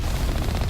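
Rapid gunfire from a combat vehicle in the Mass Effect video game, a dense, loud, continuous burst of shots layered over rumbling low-end noise with no pauses.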